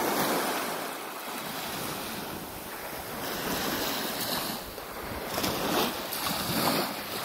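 Beach at sunrise on the York Peninsula near Black Point, with steady surf rolling in and buffeting wind rumbling across the microphone, loud and continuous with swelling pulses of waves.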